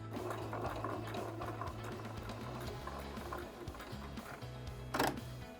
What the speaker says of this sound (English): we're just going to sew down here with your sewing machine